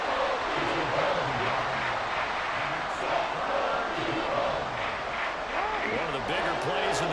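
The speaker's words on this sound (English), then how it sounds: "the crowd getting into it as we come up on a big 3rd down" A stadium crowd at a Ravens football game keeps up a steady, loud roar throughout, with a commentator talking over the din.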